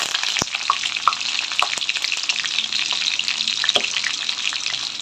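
Fenugreek seeds, green chillies and curry leaves sizzle and crackle in hot oil, a steady frying hiss punctuated by sharp pops and a few stirring clinks, with no talking.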